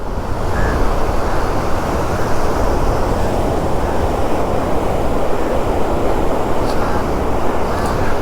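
Water pours over a weir near the KRS dam at Kodibayi Katte, a loud, unbroken roaring rush that holds steady throughout with no voices.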